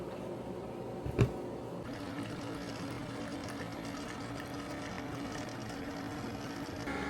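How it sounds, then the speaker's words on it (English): Steady mechanical whir and hum of an air fryer and coffee machine running together in a kitchen, constant and fairly loud throughout, with a brief sharp knock near the start. "it's a little noisy because we got the air fryer on and the coffee going"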